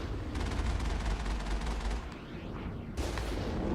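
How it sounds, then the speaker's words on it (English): Gunfire from shock troopers in the Mass Effect video game crackles through the whole stretch, a dense, steady rattle of rapid shots with heavy low rumble, briefly thinning before another burst. "Probably getting shot at by shock troopers right now"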